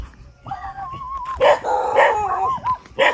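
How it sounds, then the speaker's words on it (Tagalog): Several dogs bark and yip close by, with a whining howl rising between the sharp barks. "May mga aso."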